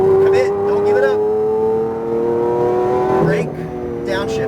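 A Lamborghini engine held at full throttle, a loud rising howl that climbs steadily before a quick shift, with someone talking over it.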